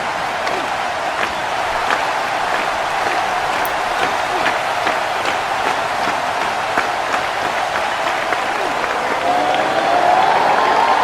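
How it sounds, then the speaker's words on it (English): A capacity wrestling crowd chants and cheers for Paige in a big arena, a sustained roar of rhythmic clapping and shouting that swells near the end. "This capacity crowd chanting on Paige."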